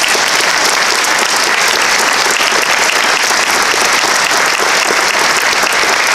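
Loud, sustained applause from a large crowd at a university alumni reunion honoring outstanding graduates, dense clapping that continues evenly without a break.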